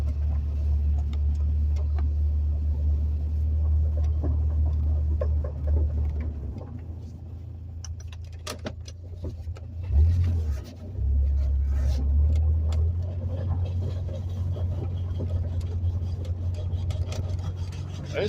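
A junkyard Geo Metro drives along with a steady low engine and road rumble that dips briefly in the middle, while a faint transmission whine runs underneath and nobody speaks.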